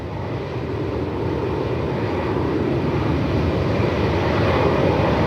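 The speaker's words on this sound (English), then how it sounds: "A220 heading off home to Brizzy this afternoon" A Qantas Airbus A220 airliner takes off at Melbourne Airport in strong wind, its engine roar broad, steady and building slightly in loudness throughout, heard from a distance with no talk.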